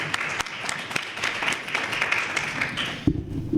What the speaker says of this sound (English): Once again, another round of applause for them.